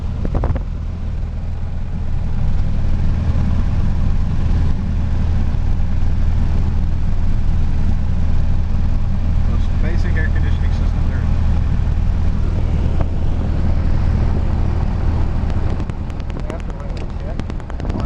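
A small airplane engine drones loudly and steadily, a low constant rumble that holds for most of the stretch and eases slightly near the end.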